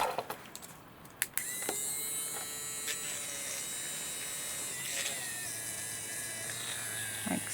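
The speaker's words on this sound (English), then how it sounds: "I'm just going to drill this out." An electric drill runs steadily for several seconds, boring out a piece of cast resin, with a continuous close whine and a few sharp clicks at the start.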